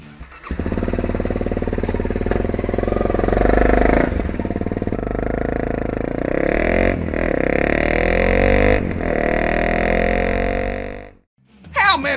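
Small motorcycle engine running up close, a loud rough throbbing roar with repeated revs rising and dropping, brief pauses between blips and a sudden cut near the end.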